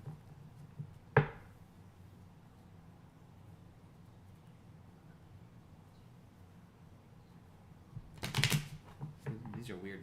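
A deck of cards is shuffled in two brief riffling bursts, one early and a longer one near the end, close by over a quiet room with faint background noise.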